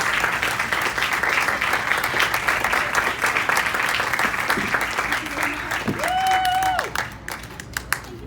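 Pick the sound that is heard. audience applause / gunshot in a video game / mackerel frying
audience applause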